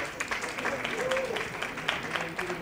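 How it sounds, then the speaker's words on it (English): Audience clapping at a book launch after a stage game, steady moderate applause throughout with crowd murmur mixed in. "Big round of applause for Karan and Meera."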